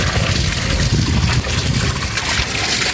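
Water gushing steadily out of a pipe at a house and running to waste, a continuous broadband splashing rush that stays loud and close for the whole stretch with no voices over it.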